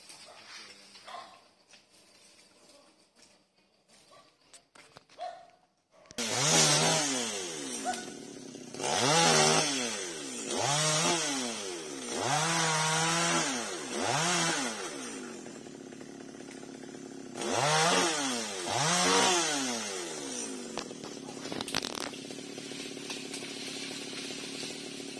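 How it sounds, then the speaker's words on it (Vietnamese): A chainsaw cuts a yellow-flowered melaleuca tree in a garden. After a few quiet seconds it roars in loud, repeated revving bursts that rise and fall as the blade bites. "Rồi anh kéo cái máy cưa lên rồi nha."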